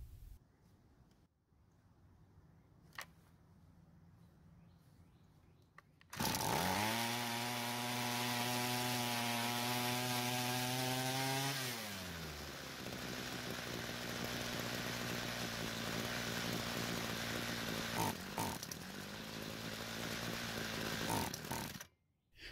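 A Homelite string trimmer's small two-stroke engine, restarted after winter storage, roars to full speed for several seconds, drops to a steady idle, then cuts out, all close and loud with no talk.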